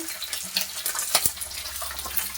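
Green chillies and coriander seeds fry in oil for a chintakaya tamarind pickle, giving a steady sizzling hiss with a few brighter crackles and pops throughout.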